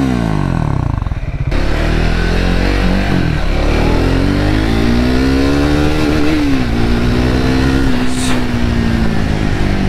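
A Triumph Scrambler 400X motorcycle rides over a rough, broken road, its engine loud and close with steady throttle and shifting pitch as it rolls through gears.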